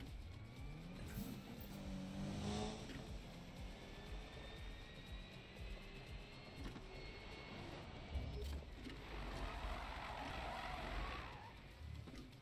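A turbocharged car in Need for Speed 2016 drives on with a steady engine rumble, faint whistling turbo tones, and rising and falling surges, heard alone at low level.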